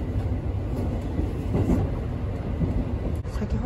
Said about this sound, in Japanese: この列車は三石駅を通過していきます。